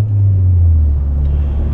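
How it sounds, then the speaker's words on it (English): A Honda Prelude's exhaust drones steadily from inside the cabin, a deep low rumble with a slight rasp, no talking. "I will say the exhaust sounds better in the car than outside the car."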